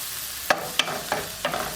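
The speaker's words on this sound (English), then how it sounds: "this is also helping to deglaze that from that wonderful pork chops we just cooked" Spoon scraping and stirring a pan to deglaze it after frying pork chops, with onion and garlic in the pan: a few distinct scrapes over a steady soft sizzle, close up.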